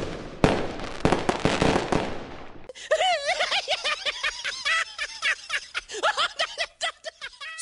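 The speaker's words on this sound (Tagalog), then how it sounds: "Fireworks display?" A rapid string of sharp crackling cartoon fireworks pops for a couple of seconds, then gives way to lively chatter and laughter.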